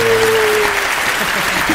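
Audience applause for a Mexican band at a talk-show interview, a steady dense wash of clapping throughout, fairly loud and close, with no voices over it.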